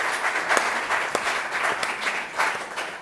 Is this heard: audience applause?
yes